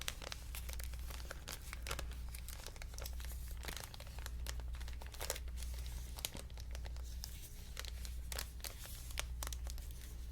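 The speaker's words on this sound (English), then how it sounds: "And with crinkle, crinkle." Various materials crinkled by hand in a quiet room, a dense, soft crackling and rustling that runs continuously, close to the microphones, with no talking.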